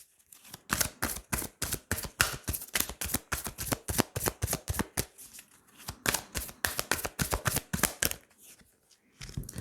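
Tarot cards being shuffled and drawn, a steady run of crisp, close card flicks and riffles, briefly pausing before resuming.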